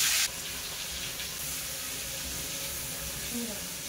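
Thinly sliced onions, four medium ones, frying in hot oil in a wok for a fish curry. A steady broadband sizzle and hiss runs throughout after a brief louder burst at the start, with no talking.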